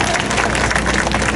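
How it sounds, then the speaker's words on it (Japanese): A crowd claps to vote for a samurai performer during a warlord-troupe comedy contest at the Nagoya festival, a brief burst of dense clapping heard on its own. "そして東馬様良かったよという拍手"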